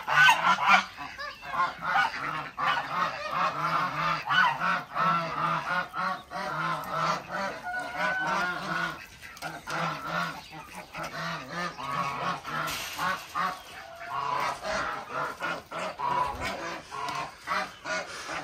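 Geese and American ducks on a hobby farm honk and quack constantly in a loud, overlapping flock chorus, close by, with no talking.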